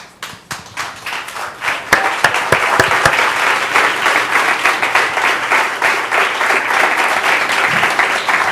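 A church congregation claps together, starting with a few scattered claps that quickly build into dense, steady applause that fills the room and continues evenly to the end.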